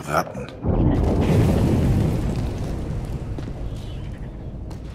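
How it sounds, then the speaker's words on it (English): Bombardment explosions in the World War I video game 11-11: Memories Retold, heard as a deep, heavy boom that swells into a sustained, rumbling roar lasting several seconds. "Sie bombardieren das Gebiet."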